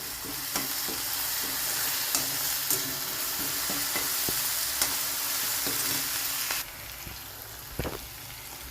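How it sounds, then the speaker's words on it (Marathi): Spring onion greens sautéing in hot oil for a brinjal bharit, giving a steady close sizzle with scattered clicks of a spoon stirring the pan; the frying quietens slightly near the end. "मी ही कांद्याची पात ॲड केलेली आहे ती पण परतून घ्यायची आहे"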